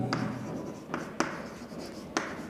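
Chalk or marker writing on a board during a Hindi polity lesson: short scratchy strokes with a few sharper taps as letters are formed, close and fairly quiet, with no talk over it.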